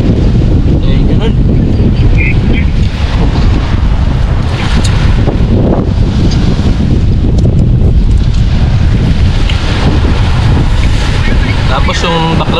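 Loud, constant rush of sea waves in Taiwan mixed with heavy wind buffeting the microphone, a roaring wash of surf throughout.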